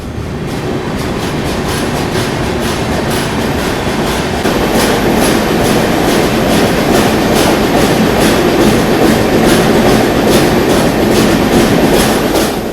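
Guwahati–Sairang Express passenger train rolling into its first tunnel after Bairabi on the Mizoram line, a loud steady rumble with rhythmic clickety-clack of wheels on rail joints, growing fuller and more enclosed partway through, with no voices.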